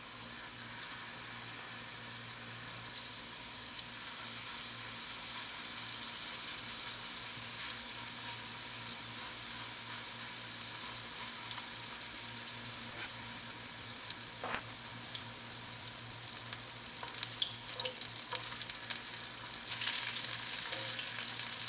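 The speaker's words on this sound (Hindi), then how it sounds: "इसको दरमियानी आँच पे पकाएँगे ताकि कबाब अच्छे से" Minced meat kebab patties frying in a pan over medium heat, a steady soft sizzle that continues throughout and grows a little louder and crackly near the end, with occasional light taps.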